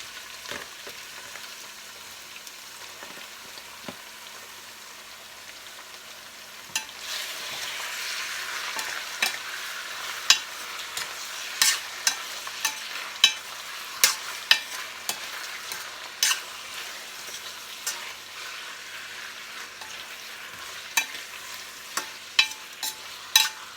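Chicken frying in a pan for chicken kaldereta, a soft steady sizzle that grows louder partway through, with scattered clicks and scrapes from stirring.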